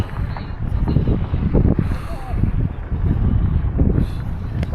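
Wind blowing at an Arctic Circle viewpoint, a steady low buffeting rumble across the microphone with gusting surges and no clear speech.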